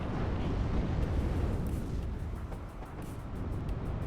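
Tank gunfire and explosions rumble through a WARNO real-time strategy battle: a dense, continuous low roar of overlapping blasts and booms, loud and unbroken, with no voices.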